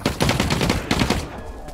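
Rapid automatic gunfire in The Cycle: Frontier shooter game, a close, steady burst of shots for about a second before tapering off.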